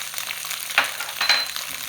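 Kimchi, kale and minced ginger stirred in a hot pan give a steady sizzle and fry, with two louder scraping swishes of the utensil close by. No one speaks.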